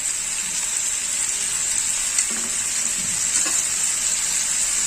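Mixed vegetables frying in a spoonful of ghee for a yogurt sabji, a steady, close sizzle with a bright hiss throughout and a few soft stirring knocks in the middle.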